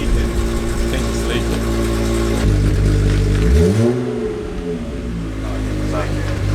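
A VW Corrado VR6 with its catalytic converter removed and the exhaust leaking revs loudly, then sweeps up and back down in a sharp blip before settling into a rough, rattly idle.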